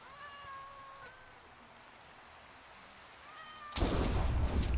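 A cat in the Minecraft video game meows twice, a drawn-out tonal mew followed by a second one a few seconds later, soft over a quiet rainy background before a burst of loud noise at the end.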